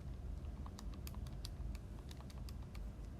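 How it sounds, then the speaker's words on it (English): Numbers tapped on a calculator make a quick run of light, crisp key clicks in an uneven rhythm, close and faint over low background hum. "So we just type this in our calculator."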